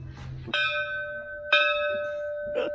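An old bell at a museum is struck twice about a second apart, each clear ringing tone sustaining and fading, followed by a softer third tap, with no speech.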